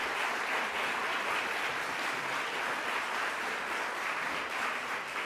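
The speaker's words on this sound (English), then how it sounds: "I think we need to give them a little more applause" A church congregation applauds steadily, a dense even wash of many hands clapping in a large room, sustained at moderate level with no voices standing out.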